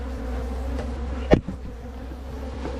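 Honey bees buzz around two newly installed hives from a nucleus colony in Barbados, a steady close hum with one loud bee passing right by the ear midway.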